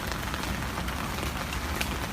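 Heavy rain pours down steadily, a dense, close hiss of drops hitting the ground with no let-up and no voices.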